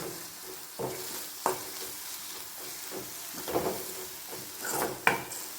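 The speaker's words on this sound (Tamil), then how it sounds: "நல்லா பச்சை வாசனை போகிறக்கு இஞ்சி பூண்டு நல்லா வதக்கிக்கலாம்" Ginger garlic paste sautéing in a pan for a meal maker gravy: a low steady sizzle with repeated scraping stirs of a spatula, several sharper clinks against the pan, close and alone.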